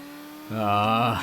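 A Seat Leon Supercopa race car engine in the ToCA Race Driver 2 video game drones in after a short quiet stretch, holding a steady buzzing pitch that rises slightly and then cuts off near the end.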